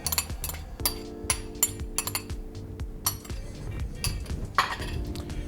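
Close clinks and scrapes of a utensil against a bowl while gyoza dumpling filling with dried mushroom is mixed, in rapid irregular taps without speech.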